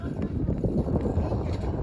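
Steady wind buffets the microphone on a ski track in a low, rumbling roar throughout, with no clear voices.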